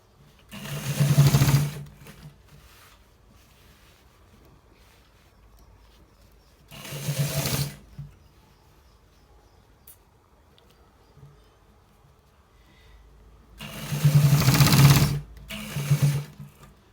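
A sewing machine stitches a shirt's double collar in three bursts, each a couple of seconds long, separated by quiet pauses, close and fairly loud.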